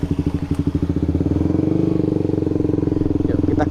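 A motorcycle fitted with an UMA Racing clutch housing, BRT clutch plates and Daytona clutch springs revs loudly up close, its rapid thumping exhaust pulses climbing into a steady, sustained engine drone with no talk over it.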